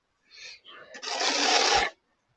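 A surface being scraped in a home garage: a couple of short rasps, then one sustained, loud, broadband scrape of about a second, close by, with no talk over it.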